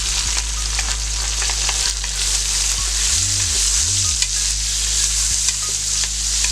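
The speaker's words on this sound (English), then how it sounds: "I'm going to put in my onions." Onions sizzle and fry in a power pressure cooker, a loud, steady crackle close by, with occasional stirring scrapes and a brief low warbling hum partway through.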